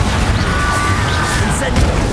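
An Incendio fire spell bursts in Hogwarts Legacy, a rumbling whoosh of flame with low booms over a short span, the fiery rush holding steady and loud throughout.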